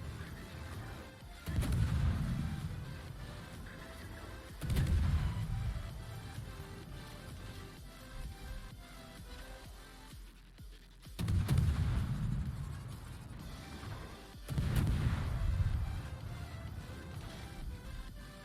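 Main guns of an Akizuki Tier 8 Japanese destroyer fire in World of Warships, four heavy booming salvos spaced a few seconds apart, each rumbling and fading before the next.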